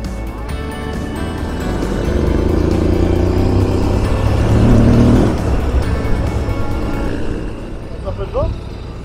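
A maxi trail motorcycle engine runs off-road, rumbling steadily and swelling as the throttle opens before easing off, fairly close, with people talking over it.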